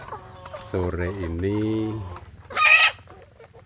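Free-range village chicks in a grow-out pen cluck and call at feeding time, close by, mixed with a person talking nearby.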